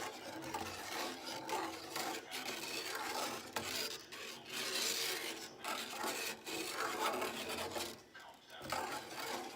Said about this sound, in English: You just keep stirring.